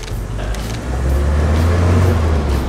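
A 1982 Mercedes van with a four-speed gearbox cruising at about 75 km/h, a loud, steady low engine drone and road rumble heard from inside the cab.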